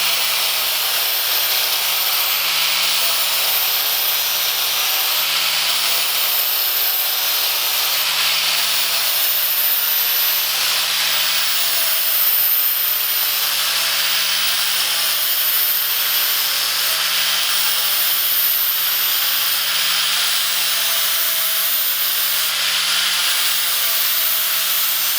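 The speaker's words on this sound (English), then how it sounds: "start taking the grinder and always keeping it flat, start moving back and forth as far as you can per pass" An angle grinder sands a steel front bumper, held flat and moved back and forth in passes. It makes a loud, steady abrasive whir that runs without a break the whole time, with a faint cyclic hum underneath and no talk.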